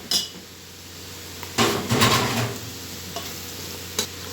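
Chickpea masala is stirred and fried in a pan: a few sharp spoon-on-pan scrapes and clinks, one longer stirring burst, all over a low continuous sizzle with no talking.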